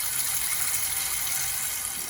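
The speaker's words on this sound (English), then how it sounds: "Just gonna fill this up to here with water" Tap water gushes steadily into a pot being filled for home-brewing a Cooper's Irish Stout, a continuous bright hiss with no talk over it.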